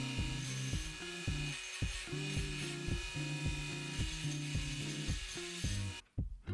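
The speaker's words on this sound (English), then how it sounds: "Now I can more appropriately use my grinding stone to smooth off those harsh edges." A small rotary grinding stone smooths the edges of a diecast Hot Wheels Porsche 917 LH body, a close, quiet, steady whirring grind with rhythmic pulsing as the tool is worked back and forth, ending abruptly.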